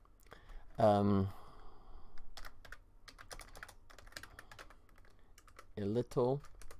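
Someone types on a computer keyboard, with irregular bursts of light, quiet key clicks between short stretches of talk at the start and end.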